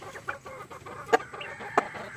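Native chickens cluck close by in a yard, including a rooster, with two sharper loud clucks standing out over a steady backdrop of softer clucking and rustling.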